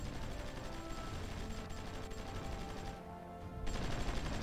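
Artillery and gunfire in the strategy war game Supreme Ruler Ultimate, a dense, continuous wash of rapid shots and blasts with a brief dip before it resumes at full loudness.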